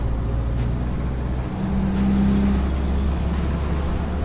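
A 1946 Willys car rolling over a few bumps, with a steady low engine drone and road rumble heard from inside the cab and a faint brief thump in the middle, no talking.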